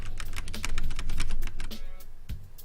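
Rapid clattering keystrokes on a computer keyboard come in quick irregular bursts, close and crisp, with a slight pause near the end.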